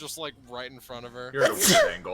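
A sudden, loud sneeze bursts out close by in the middle of casual conversation between several people talking.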